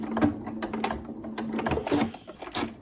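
Sewing machine back stitching a cushion seam, a close, fairly loud mechanical chatter that wavers in speed with the stitching, reversing and running forward again.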